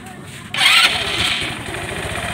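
A Motorstar Easy Ride 150 motorcycle, unused for years, starts with a sudden loud catch and settles into a steady, close idle.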